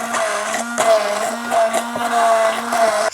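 A blender grinding peeled tomatoes with ginger, a loud continuous whirring motor with pitch wobbling as the load shifts, pulsing roughly every half second.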